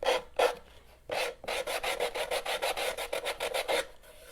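Paint being rubbed and sanded off a wooden cutting board tool box, a run of quick, even rasping strokes close by, preceded by a few slower separate swipes, with no talking.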